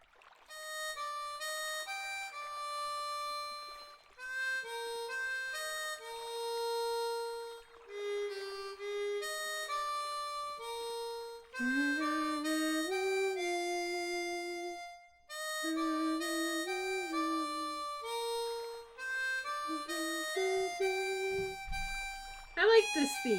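Harmonica plays a melancholy theme from the video game Trails in the Sky, a sustained, expressive melody with bending notes and brief phrase breaks, steady and close.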